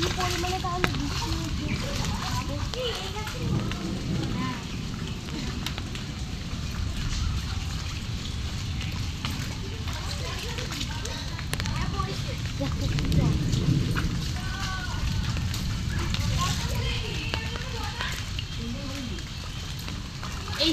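A heavy hailstorm with rain roars steadily, a dense continuous wash of falling water and pelting ice mixed with distant rumbling, while voices talk in the background.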